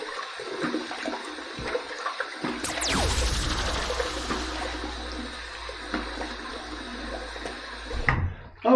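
Water from a bathroom sink tap rushes and splashes while the face is wetted for a shave, starting a few seconds in and running steadily near the microphone, with small clatters before and after.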